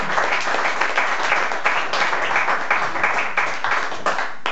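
A live audience applauds a guest musician at a concert, giving dense, steady clapping that fills the room without a break, with no voices over it.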